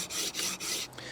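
A knife blade stroked across a diamond stone on a KMFS Vantaedge sharpener, three or four quick rasping scrapes in a row, close and fairly loud, without speech.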